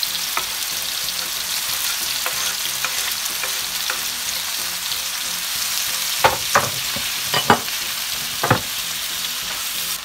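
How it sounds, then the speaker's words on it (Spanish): Cheese sizzling and frying in a pan for chiles rellenos, a steady close hiss with several sharp pops and crackles spitting out toward the end, no voices. "a mí me gusta como el sabor que da cuando sofreímos el queso"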